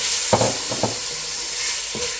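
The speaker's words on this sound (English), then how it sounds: "now we're gonna fry our prawns" Prawns frying in a hot pan for fried rice, a steady close sizzle with a few bright stirring scrapes and clatters near the start and one more toward the end.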